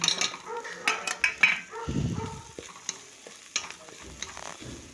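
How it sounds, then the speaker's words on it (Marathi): Mixed Bhogi vegetables are stirred and sautéed in oil with homemade black masala and turmeric, giving close scraping and clinking of a spoon against the pan over a soft sizzle, with brief irregular bursts of stirring. "असं सगळं मिक्स करून छान तेलात परतून घेतलं आणि जास्त तेल पण नाही"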